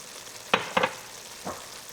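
Ginger, chili powder and turmeric powder hit hot oil in a pan, giving two sharp sizzling bursts close together and a softer one a moment later over a faint steady background.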